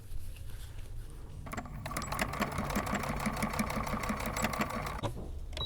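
A domestic sewing machine stitches a seam in fabric, a close, continuous rapid whirr with a fine ticking rhythm held for several seconds, no voices.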